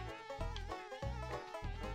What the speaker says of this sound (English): As long as I still hear the bees,